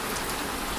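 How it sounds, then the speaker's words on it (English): Steady rain falling during a sudden storm, a dense, even patter of drops hitting surfaces, continuous and close with no voices. "it's starting to rain again"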